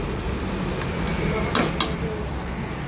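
Pork for kaldereta frying in a pan, a steady dense hiss of sizzling oil up close with a couple of brief scrapes from stirring.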